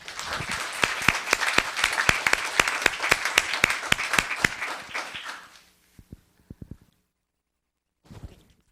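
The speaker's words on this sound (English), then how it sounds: "Let's give Ms. Kates a round of applause." A small audience at a Los Gatos town council meeting claps for an honored local business owner: a brisk burst of applause that fades out after about five seconds, followed by a few scattered claps and some faint shuffling.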